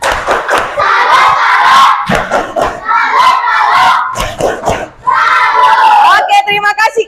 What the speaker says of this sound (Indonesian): Oke, kasih tepuk salut lagi.